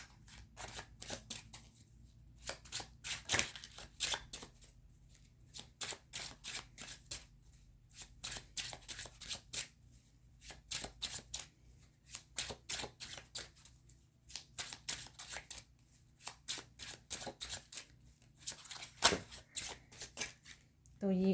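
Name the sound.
shuffling tarot cards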